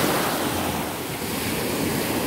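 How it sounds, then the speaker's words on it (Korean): Ocean waves breaking on Daecheon beach in Korea in summer, a loud, continuous rushing surf with heavy wind buffeting the microphone, no voices heard. "자, 파도 치는 거 한번 보세요."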